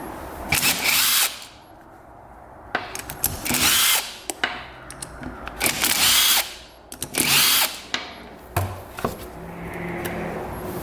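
Power tool whirring in bursts while removing power valve cover bolts from a low compression dirt bike engine, several loud spin-ups separated by short pauses and faint clicks of parts, no voices.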